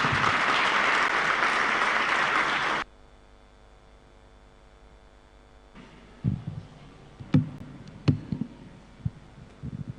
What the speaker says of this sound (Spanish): por favor, con fuertes aplausos.